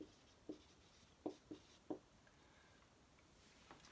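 A marker or chalk writes on a board, leaving a handful of faint, separate taps and scratchy strokes spaced unevenly over a few seconds in a quiet room.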